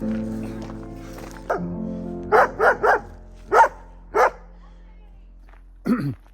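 A dog barks outdoors on a woodland walk along Ridge Lane in Atherstone, Warwickshire, giving several sharp, spaced barks and yips, loud and fairly close, among occasional human vocal sounds.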